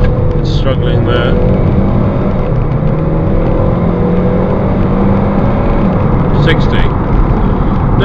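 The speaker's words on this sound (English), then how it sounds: "Right, we're going to do a 0 to 60 test." A front-wheel-drive 2004 Saab 9-3 Aero with a 2.0 turbo engine accelerating hard from 0 to 60 on a wet road, a loud steady engine drone with road and tyre noise throughout.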